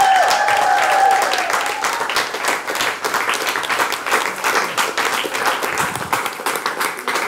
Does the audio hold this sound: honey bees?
no